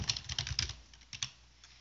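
Quick keystrokes clatter on a computer keyboard while code is entered, a short close burst of clicks that thins out to a couple of final taps, with no talk.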